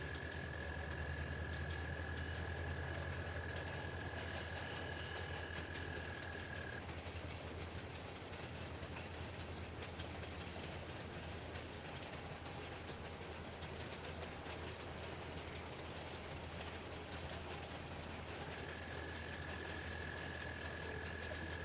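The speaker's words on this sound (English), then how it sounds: "We got a train going by, guys, so it might be a little noisy here for a bit." A train rolls past near a marsh, a steady far-off rumble and rail clatter that holds for over twenty seconds, with a faint high tone drifting in and out.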